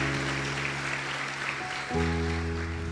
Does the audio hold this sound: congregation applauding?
yes